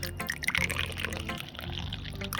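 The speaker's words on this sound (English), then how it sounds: "But if I put water down this hole, I'm gonna fill it up." Water pours from outside into a hole drilled in rock, a steady trickling, gurgling flow that stays fairly quiet and close, with no talk over it.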